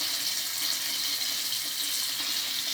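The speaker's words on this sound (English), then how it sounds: "And I rinse them out thoroughly." Tap water runs steadily into a sink as items are rinsed under it, a loud, continuous hiss close by with no break and no voices.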